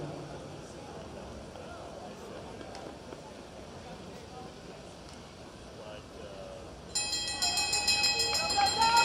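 A bell rings out over a murmuring crowd for the final lap of a masters track cycling world championship race, its rapid repeated clanging loud and clear in the last two seconds.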